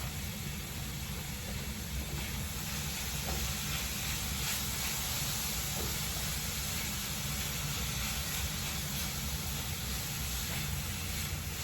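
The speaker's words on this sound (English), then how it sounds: "So now I'm going to go ahead and I'm going to add in the tomatoes." Tomatoes, left unseeded and juicy, sizzle steadily in a hot pan, a constant broad hiss at even loudness with no talking over it.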